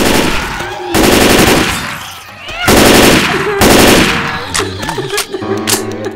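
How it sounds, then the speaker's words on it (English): A shotgun fires in Left 4 Dead 2, heard as loud, close blasts in several heavy bursts separated by short gaps, with game noise trailing off at the end. "A shotgun."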